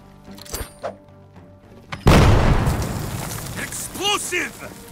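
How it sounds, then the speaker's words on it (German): A grenade goes off in the tactical game Jagged Alliance 3 with a sudden loud blast and a long rumbling decay, preceded by a few soft thuds, with a voice speaking as it fades. "Wirf mal eine fucking Granate."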